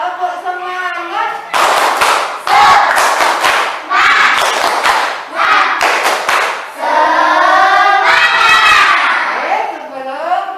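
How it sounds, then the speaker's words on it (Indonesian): Schoolchildren in a classroom perform a clapping chant, sharp bursts of claps punctuating their loud sung-spoken voices in a lively, rhythmic pattern that repeats several times. "Tepuk semangat."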